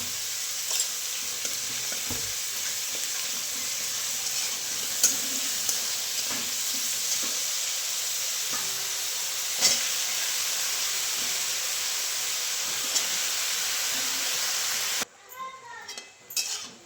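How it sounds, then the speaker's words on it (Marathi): Eggplant pieces with turmeric fry and sizzle steadily in a hot pan, with occasional scrapes and clinks from a spoon stirring them, continuous and close for most of the clip before the sizzle drops away near the end. "वांग सगळं टाकून घेतलं हलवलं व्यवस्थित"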